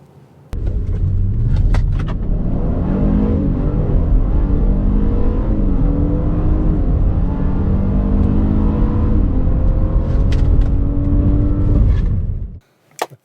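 A 2020 Honda Passport and a VW Atlas Cross Sport with an 8-speed automatic accelerate hard side by side in a drag race, a loud, sustained engine roar rising steadily through the gears before cutting off abruptly.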